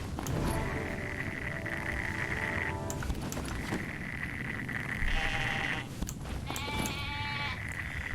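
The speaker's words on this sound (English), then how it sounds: "Let me just finish killing all these sheep here" Repeated sheep bleats from the Black Desert Online game, several drawn-out calls in sequence over a steady bed of background game noise, fairly close and clear.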